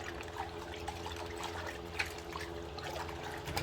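Warm water trickles and splashes softly for a P&S Absolute rinseless car wash outdoors on a freezing day. The faint, irregular liquid sound has a few small splashes and no talking.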